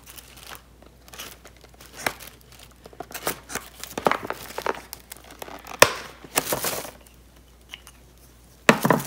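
A mini embossing folder being opened from its plastic packaging makes close crinkling and crackling, with irregular bursts of rustle and sharp crackles over about nine seconds.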